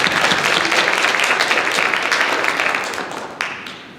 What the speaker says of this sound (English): Let's all give a round of applause for our panelists.